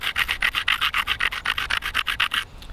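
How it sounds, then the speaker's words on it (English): Edge of a ceramic insulator arrowhead ground heavily with rapid, even rasping strokes, about a dozen close scrapes in a steady rhythm before stopping. "I'm going to grind this one pretty heavily"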